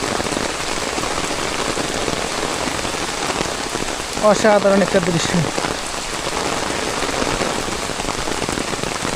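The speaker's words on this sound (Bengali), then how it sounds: "একদম ঝুম বৃষ্টি।" Heavy rain from a Baisakh-season thunderstorm pours down in a dense, steady roar outdoors along a road. Someone speaks briefly partway through.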